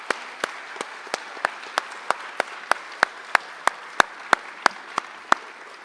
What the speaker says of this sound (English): I just want to give one last round of applause for Annette